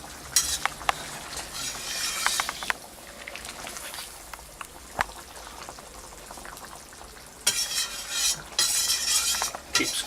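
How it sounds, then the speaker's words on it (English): Fish curry being stirred and scraped around the edges of a pan, giving steady close scraping and soft bubbling with scattered utensil clinks, louder bursts of scraping at the start and near the end. "Keep scraping the edges of the pan because that's where all the thickness is."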